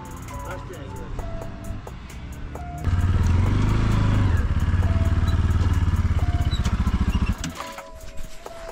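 A parked Apache-style motorcycle engine idles with a steady, close, loud chugging throb that swells for several seconds in the middle and then drops away, while people talk over it.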